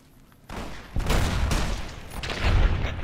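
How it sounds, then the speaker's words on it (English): A rapid series of booming landmine blasts in the video game Fallout: New Vegas erupts after a quiet start, rumbling explosions overlapping into a continuous roar that swells toward the end. "What's with the explosions?"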